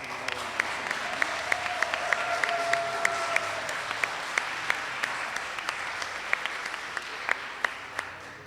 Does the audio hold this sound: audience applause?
yes